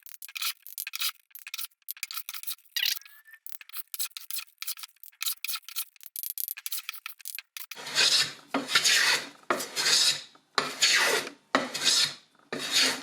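A handmade bidirectional hand plane makes a fine cut along a wooden board. Quiet, quick shaving strokes come first, then a run of louder, longer rasping passes that are close and alone, with no voices.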